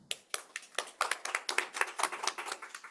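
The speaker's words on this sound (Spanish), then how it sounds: "pido para ella un aplauso" Small group applauding a law lecturer being introduced at a legal conference, a sparse run of distinct, close claps that build into a quicker, uneven rhythm over a few seconds.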